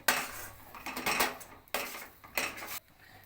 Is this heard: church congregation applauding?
no